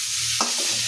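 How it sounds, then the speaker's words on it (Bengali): Onion and fish head frying together sizzle under a brief scrape of stirring in the pan, a short, close kitchen sound. "এই যে পেঁয়াজ আর মাছের মাথা একসাথে ভাজা হয়ে গেছে"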